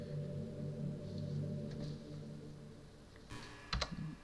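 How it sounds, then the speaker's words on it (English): A few faint, quick keystrokes on a computer keyboard while signing up for an account, clustered near the end over a steady low electrical hum; no one speaks. "I was typing in the number that it sent me."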